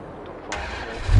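Truck engine in Farm Simulator 22 cranking and catching about halfway through, then settling into a steady mid-pitched running rumble that swells louder at the end.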